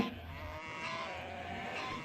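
A cartoon goat on a farm lets out a sustained, wavering bleat, moderately loud and alone, lasting about two seconds.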